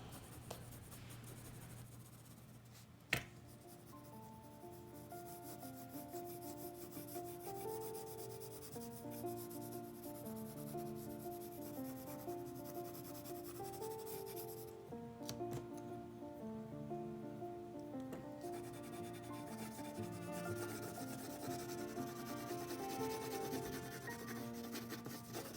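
An HB pencil scratches and rubs steadily across paper while a mountain landscape is shaded, making a continuous close, dry, papery scraping with quick back-and-forth strokes throughout.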